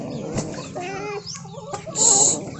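Farm chickens cluck and squawk close by in short bursts, with a sharp, loud high squawk near the end.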